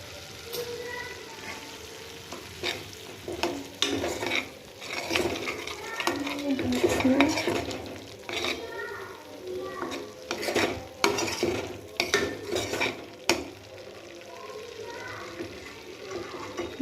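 Red chilli and spices fry in oil in a pan while being stirred, a soft sizzle under repeated scraping and clinking of a spoon against the metal pot.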